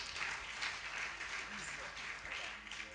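A church audience applauds and cheers for peace, a steady wash of clapping that runs under someone speaking through the whole moment.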